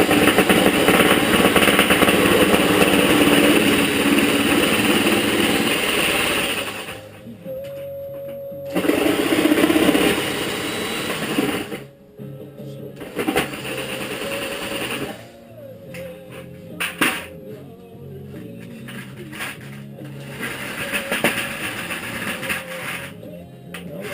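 A power saw buzzes loudly through a plastic bucket for 45-degree cuts, running in harsh bursts with abrupt stops and restarts as the bucket is held steady, the cuts uneven and rattling.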